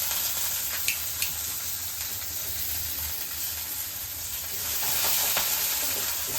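Onion, chilli, curry leaves and grated beetroot fry together in oil for paruppu urundai kuzhambu, a dense steady hiss and crackle with a few sharp pops, swelling slightly toward the end, no voices.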